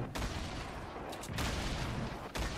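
Gunfire in the video game Fortnite Battle Royale: a dense, continuous rattle of shots with sharp bursts near the start, middle and end, fairly loud and close, with no talking.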